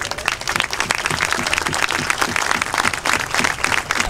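Loud, steady audience applause from a crowd at a municipal mayor's address in Navojoa, many hands clapping densely and continuously throughout, with no talk over it.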